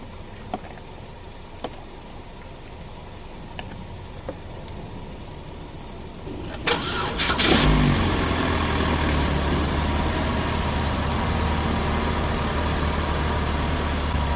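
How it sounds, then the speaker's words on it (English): A Chevy Cobalt with an Ecotec 2.2 engine cranks and catches after a few quiet seconds, then settles into a steady, loud idle that continues to the end. "give the car a quick start."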